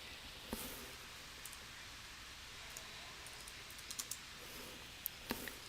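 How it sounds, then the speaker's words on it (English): Faint keystrokes on a computer keyboard, scattered and soft at first, then a quick cluster of clicks near the end over a quiet room hiss. "We're going to type in Thingiverse."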